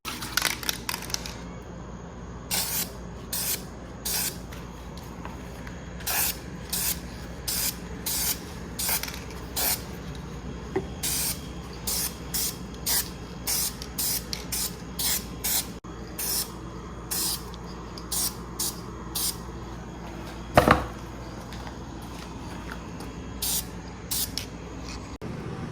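Krylon frosted glass semi-transparent spray paint hisses from the can in short repeated bursts of a second or so, separated by quiet pauses, close by and fairly loud.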